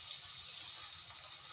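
Water poured into a pan of cooking tindora (ivy gourd) curry, a steady splashing pour heard up close and alone for a brief moment.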